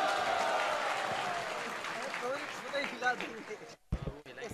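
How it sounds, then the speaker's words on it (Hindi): Applause and cheering from an audience at a motivational talk on stage, a dense wash of clapping that gradually thins and breaks off near the end, with voices mixed in. "जोरदार तालियां एवरीवन."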